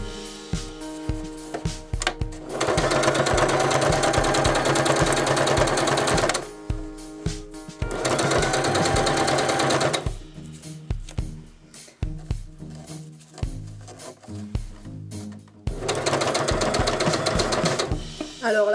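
A sewing machine stitches velvet upholstery fabric in loud, steady whirring runs of a few seconds each, split by quiet gaps with small clicks and handling noises.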